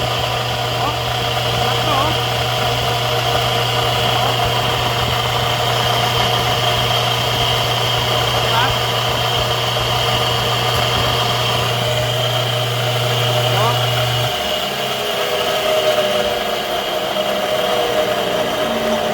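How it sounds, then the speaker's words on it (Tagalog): An ice cream machine's flood-damaged electric motor hums loudly and steadily with a grinding, rattly bearing whine; its pitch shifts and settles lower toward the end. "Medyo maingay nga lang yung bearing."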